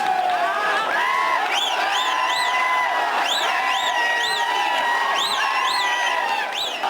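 A large crowd at the Ganda Singh border Rangers parade chants slogans in loud rising-and-falling unison, waves of shouting voices repeating steadily and filling the whole space.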